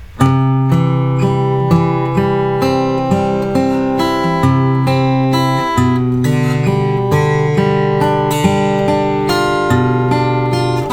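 Plucked fingerstyle classical guitar arpeggios from Giuliani's 120 right-hand studies ring out in a steady repeating pattern, low bass notes under higher strings, clear and close with no talking.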